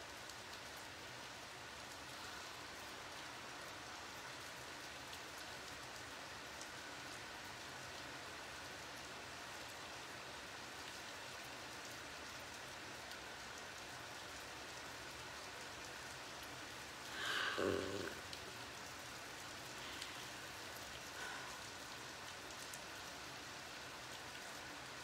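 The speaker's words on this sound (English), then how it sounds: "You guys hear the rain?" Steady rain pours outdoors, a soft, even hiss with scattered drops that holds for the whole stretch, with one brief louder disturbance partway through.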